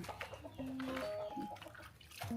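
Chickens wandering around a motorbike rental in Ubud, Bali give short close clucks and a brief rooster-like call, with nearby rustling.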